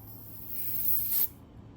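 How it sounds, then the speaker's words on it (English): Sunscreen spray is released in one soft, continuous aerosol hiss lasting about a second, close to the microphone and quiet, ending abruptly with no talking over it. "It also sprays purple"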